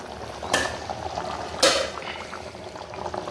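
Coconut and drumstick semi-gravy bubbles at a steady boil in a pot, a soft continuous simmer with two brief louder clinks or lid taps standing out near the start and middle.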